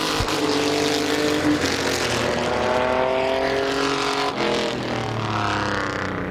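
Mini trucks racing at Midvale Speedway, a dirt oval short track, roar continuously as a pack of engines drones and shifts pitch together at close range, steady and loud throughout with no one talking.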